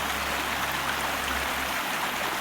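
Cascades spill down the mossy slopes of a deep gorge on Réunion island, giving a steady, dense rush of falling water that stays loud and unbroken with no voices.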